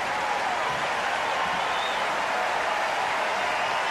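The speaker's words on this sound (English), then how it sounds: "the cheers now for the crowd favourite, fourth ace" Tennis crowd at the 2005 Montreal semifinal, Agassi against Rusedski, cheering and applauding steadily after an ace, a dense continuous roar filling the whole moment.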